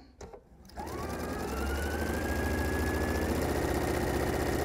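A sewing machine runs steadily while chain piecing triangle pieces for a diamond quilt, starting after a few brief clicks and then humming in a continuous fast rhythm, close and loud.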